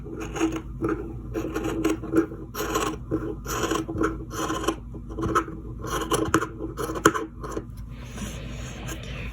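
Scissors snip through a sock at the heel in a run of close, rasping cuts with short pauses between strokes, heard alone with no talking.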